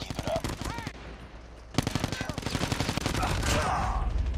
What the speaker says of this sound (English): I'm literally walking around, just shooting people